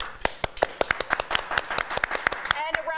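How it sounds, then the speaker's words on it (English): A small studio audience claps in a quick, steady run of sharp claps, close and fairly loud. Talk overlaps the clapping. "Let's do a round of applause if we think she's going to perform"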